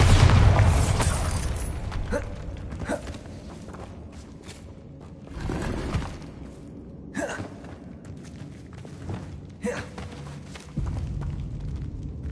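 A Bombarda blasting spell from Hogwarts Legacy on PS5 detonates with a loud deep boom at the start, then rumbles and scattered debris thuds fade over several seconds, with fainter cave ambience and occasional softer impacts.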